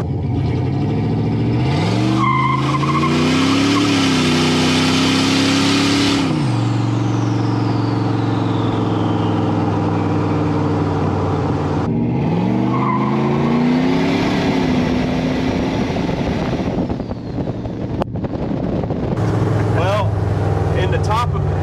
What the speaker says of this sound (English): In the top of first gear, I felt the boost kick in and it started chattering the tire, so I went ahead and shifted into second